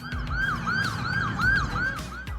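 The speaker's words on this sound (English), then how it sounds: "I've never seen someone dance to the sound of an ambulance" An ambulance siren wails in a fast, repeating rising-and-falling yelp, steady and fairly loud over low rumbling background noise, with no voices.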